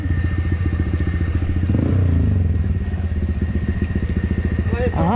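A Honda PCX scooter engine idles nearby with a steady, fast pulsing putter, holding constant for several seconds before someone briefly speaks near the end.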